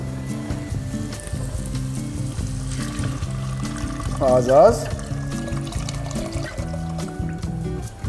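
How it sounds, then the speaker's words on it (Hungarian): Water poured into a pot while making a quick Hungarian green pea soup with frozen peas, a short splashing pour rising midway under steady talk and background music. "mehet bele a víz"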